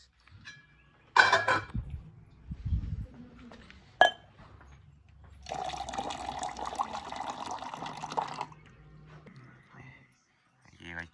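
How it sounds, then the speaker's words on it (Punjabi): Water poured into a glass in a home kitchen, a brief splashing fill around the middle of the clip. Clinks and quiet speech come and go around it. "ਇਸ ਪਾਣੀ ਪਾ ਲਈਏ"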